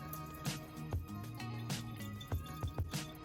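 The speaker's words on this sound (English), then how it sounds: "we can put this whole tube system into our sink to drain" Water drains from the tube system of an Opal 2.0 nugget ice maker into a sink, with irregular drips and small splashes at low level in a quiet room.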